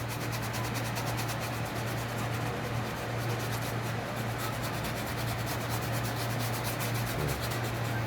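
A stain being scrubbed by hand to remove it makes a continuous, steady rubbing and scouring noise, close and even in loudness throughout, with no speech.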